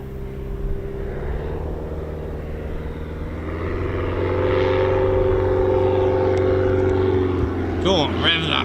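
Jet engine roar from an RAF F-35 Lightning doing a touch and go, a steady droning rumble that swells louder midway and holds, with a faint voice near the end.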